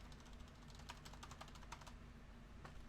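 Rapid, irregular clicking of keys on a computer keyboard, quiet and close, over a low steady electrical hum.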